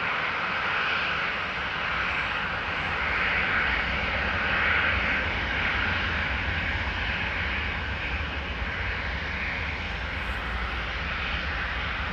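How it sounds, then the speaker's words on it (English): A Tarom Boeing 737-800 roars on departure from Amsterdam Schiphol, a loud, steady jet engine rumble that holds strong and even for the whole stretch with no voices over it. "This is Tarom, flight 362 to Bucharest, 737-800"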